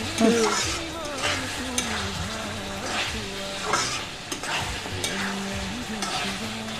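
Broiler chicken meat seasoned with black pepper powder is stirred in a hot pan, a continuous close sizzle broken by regular scraping strokes and light clinks of the utensil.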